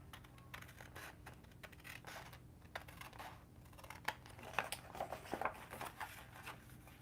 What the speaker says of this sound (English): use your scissors